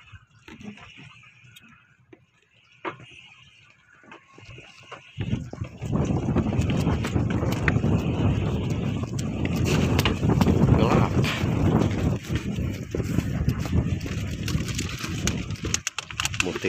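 A speedboat motoring on the sea during a fishing trip near Lancang island: quiet wind at first, then a loud, steady engine roar with rushing wind and water that carries on to the end.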